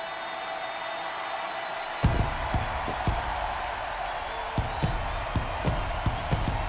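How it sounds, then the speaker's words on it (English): Stadium crowd noise on opening day in the MLB The Show 22 baseball video game: a steady roar of cheering that swells suddenly, with claps and whoops popping out above the din. "The crowd is amped up, ready to get this season underway"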